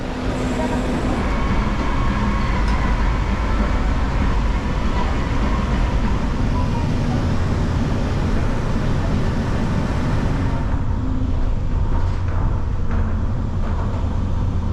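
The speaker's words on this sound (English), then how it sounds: "the free tram takes you from Luxor to Excalibur and Mandalay Bay" Steady, loud rumble of the free Las Vegas tram running from Luxor toward Excalibur and Mandalay Bay, a continuous rolling drone heard from inside the car that eases slightly near the end.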